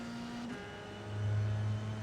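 Dallara F3 race car engine in the iRacing simulator at Daytona road course, a steady droning whine that swells louder as the car gets on the throttle partway through.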